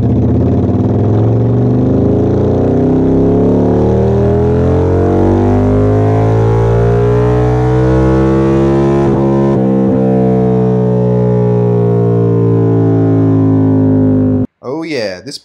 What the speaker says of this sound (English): Not only that, but it's got the deep V-twin sound to back it up.